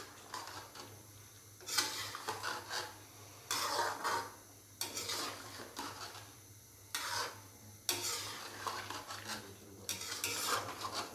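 Beef frying in cooking oil in a karahi for black pepper beef karahi, with repeated bursts of stirring and utensil scraping against the pan over a soft background sizzle, no voices.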